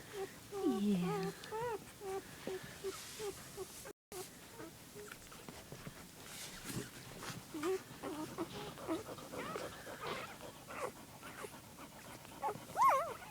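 Newborn puppies whimper and squeak in thin, high little cries beside their mother dog, strongest at the start and then scattered and soft, while a person talks gently over them.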